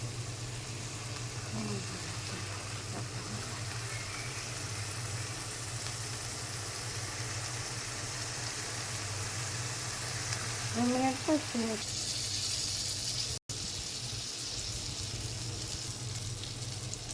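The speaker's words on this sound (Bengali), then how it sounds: "আমার বেগুন ভাজা হয়ে গেছে" Eggplant pieces seasoned with turmeric and salt fry in hot oil, giving a steady, even sizzle over a low continuous hum, with a brief moment of speech partway through.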